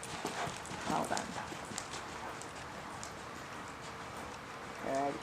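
A horse cantering in a riding arena, its hooves thudding softly in a rolling rhythm at a moderate distance, with a rider and instructor talking over the footfalls.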